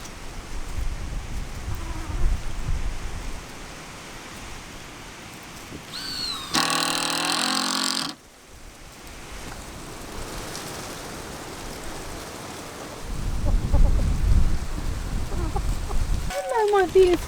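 Wind gusts outdoors in broadband waves, a loud burst midway and stronger buffeting near the end, with a person talking over it at times.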